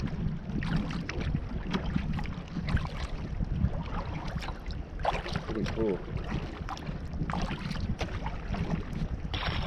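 A small boat slaps and thumps over choppy water near the Trans-Taiga Road with steady wind rumble and hiss; someone briefly speaks over it.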